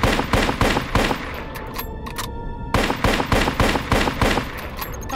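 Rapid gunfire from a video game shooting range, loud bursts of shots fired at targets with a brief pause midway before the volley resumes, no talking over it.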